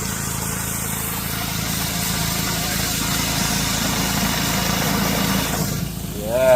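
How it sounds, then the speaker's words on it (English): A power wash floor scrubber machine cleaning a sidewalk runs with a steady, loud mechanical drone and hiss that holds even for several seconds, then dips and swells near the end. "Power wash machine. Scrubber."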